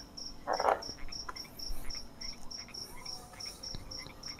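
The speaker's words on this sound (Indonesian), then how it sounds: "Ada ini jangkrik tadi" Steady, regular cricket chirps pulse through a quiet nighttime background, with a brief faint rustle early on.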